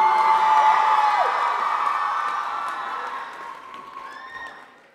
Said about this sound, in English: Come on, ladies and gentlemen, let's hear you scream.